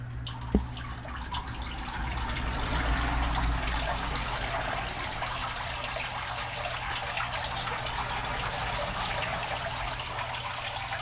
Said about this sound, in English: So we'll go with the pond pump and filter first.